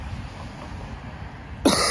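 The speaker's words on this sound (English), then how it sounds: "Still got a cough." A single sharp cough bursts out at the very end, close and loud, after nearly two seconds of quiet room noise.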